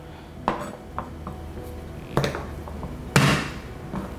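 Ingredients being smashed in a home kitchen give several sharp, irregular thuds and clacks, a few seconds apart, with one especially loud hit and quieter knocks in between.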